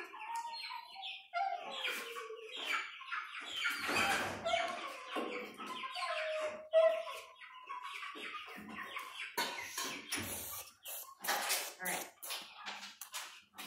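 Chickens cluck and chirp around a backyard coop on moving day, scattered calls close by over steady outdoor noise, mixed with people talking.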